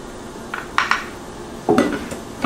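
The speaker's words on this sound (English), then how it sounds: "So we're going to dish up our soup" A ladle scrapes and clinks against a pot and bowls while sweet potato and black bean chili is dished up, a few scattered metallic knocks and scrapes close by.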